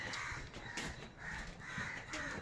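Crows caw from overhead outdoors, several rough calls repeating in a loose rhythm. They sound faint and somewhat distant.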